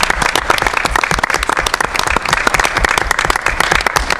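An audience at a school board meeting applauds an award, a dense, steady burst of many hands clapping throughout, fairly loud and close.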